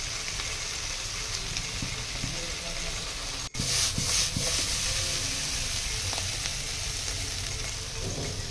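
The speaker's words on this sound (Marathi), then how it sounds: "एक 10 ते 15 मिनिटं मोठा गॅस करून आपण हे सगळं फ्राय करून घेणार आहोत" Paneer frankie filling fries in a non-stick pan on a high flame, a steady close sizzle with occasional stirring scrapes and one brief break midway.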